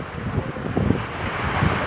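A storm in Laos blows gusty wind that roars steadily against the microphone in a dense, continuous wash of noise, with low buffeting rumbles and no voices.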